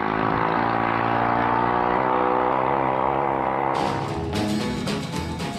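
A British motorbike engine from the classic 1950s era drones steadily with a rich, loud tone that shifts in pitch, then turns rougher and more open about two-thirds through, as if revving harder.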